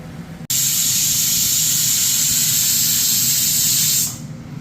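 A pressure cooker cooking ghugni lets out one loud, steady, close steam hiss that runs for about three and a half seconds, then cuts off abruptly, leaving quieter room sound.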